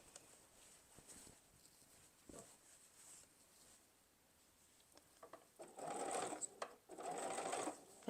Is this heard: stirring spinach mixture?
no